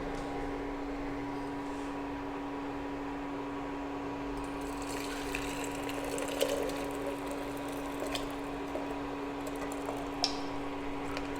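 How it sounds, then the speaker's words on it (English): Spiced kadha decoction of ginger and fresh turmeric pours into a kettle, a soft liquid splash and trickle that builds faintly over a steady low hum. "Now I'll just pour it in my kettle."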